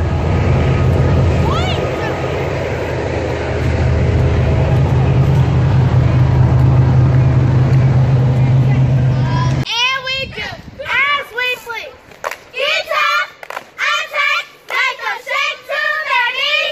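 A train rumbles past in the background at an outdoor car wash fundraiser, a steady low roar lasting about ten seconds before it cuts off and nearby voices talk.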